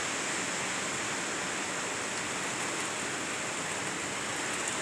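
Heavy rain pours steadily outdoors on an evening of wind and rain, a dense, even hiss filling the scene without pause and with no voices.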